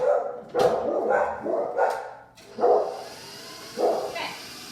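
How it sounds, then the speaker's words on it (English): Several dogs bark in repeated bursts after a knock at a house door, loud and close, with short pauses between volleys. "somebody just knocked on my door and now the dogs are going crazy"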